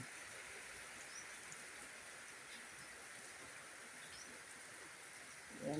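Heavy rain pours down as a steady, dense hiss that does not let up, sounding even and continuous and moderately loud. Near the end a brief low thump rises above it.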